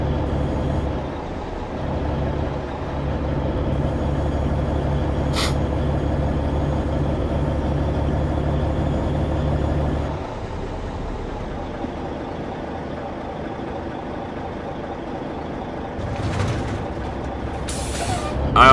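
USPS mail truck in traffic with a loud steady engine and road rumble, then a sharp hiss of air brakes partway through, followed by quieter idling and a couple of brief later hisses; no talking.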